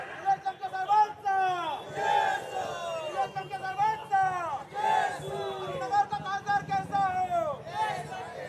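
A large crowd at a political rally chants slogans in loud rhythmic bursts, voices rising and falling together in repeated calls, with a lead voice and general hubbub around it.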